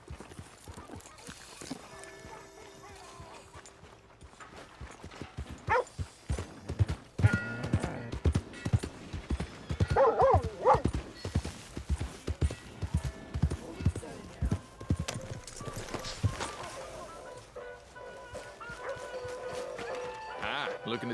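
Horse hooves clip-clop steadily in Red Dead Redemption 2, a clear walking rhythm close by with snorts and occasional clunks, while people talk over it throughout.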